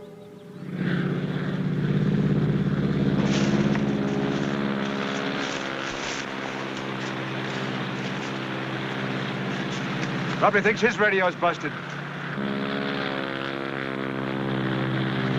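A propeller airplane drones steadily overhead with a loud, sustained engine hum that swells and holds. Someone speaks briefly over the engine noise.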